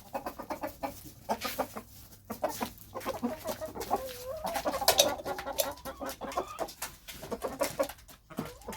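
Backyard chickens eating scattered grain, with a run of close, uneven clucks and soft squawks overlapping one another, rising and falling in loudness across the whole stretch.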